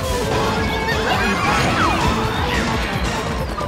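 Bomb explosions from a Mario video game, a dense, continuous burst of crashing and smashing game effects that stays loud for the whole stretch, with a voice partly audible underneath.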